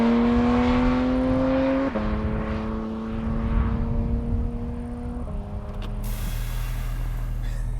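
A Porsche Cayman GT4 RS engine heard from inside while driving, a loud steady drone whose pitch drops sharply at two gear shifts, with a brief clunk or whir near the end.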